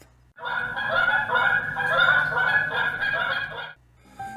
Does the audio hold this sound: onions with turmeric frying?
no